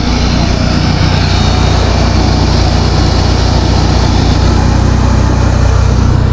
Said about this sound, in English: Once that welder idles down, I'll go ahead and shut it off.